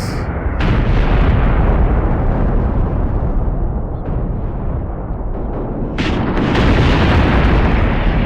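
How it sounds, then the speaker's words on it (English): Missiles and explosions in the tank war game Graviteam Tactics, a loud continuous barrage of booms and rumbling blasts with sharp bursts, dense and close throughout. "Missiles are flying."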